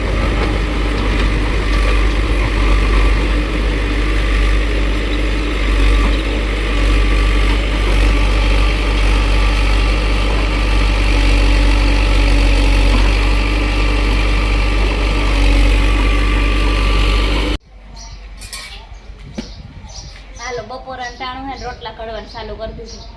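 A tractor loader's heavy engine idling loudly on a farm with a steady low rumble, cutting off abruptly near the end, followed by people talking.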